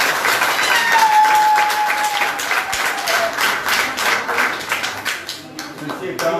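A crowd at a donation handover ceremony at a hospital in Foumban, Cameroon, claps together in a dense, lively burst that thins toward the end, with voices mixed in.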